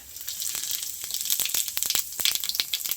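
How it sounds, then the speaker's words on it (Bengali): Whole cumin seeds crackle in a small amount of hot oil for tempering before a chicken kosha curry, giving steady close sizzling broken by sharp pops and spits and no voices. "তেল গরম হয়ে গেছে, দিয়ে দেবো ফোড়নে গোটা জিরে"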